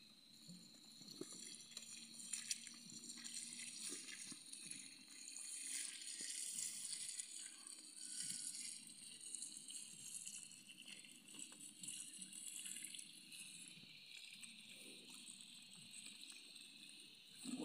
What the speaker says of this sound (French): je vais prendre soin maintenant de passer à l'arrosage.